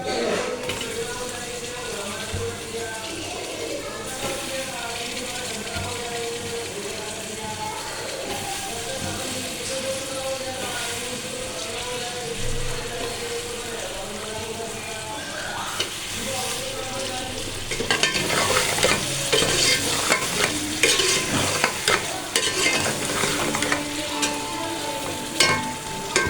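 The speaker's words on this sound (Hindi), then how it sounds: "इसको फ्राई करके बैंगन को" Eggplant frying in a pan for a home-style arbi baingan dish, a steady dense sizzle throughout with stirring, growing louder and crackly in the last several seconds.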